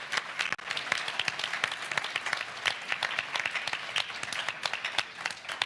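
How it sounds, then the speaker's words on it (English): An audience at a co-operative party annual conference claps in a sustained round of applause, dense crisp hand claps spreading through the hall for several seconds with no talk. "Another huge round of applause for Miata."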